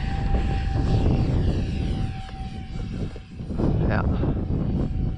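An X-Fly A-10 RC jet plane runs its motors with a steady whirring drone that holds throughout, briefly dipping and rising again, while someone speaks a short word over it.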